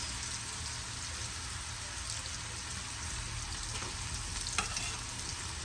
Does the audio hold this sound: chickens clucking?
no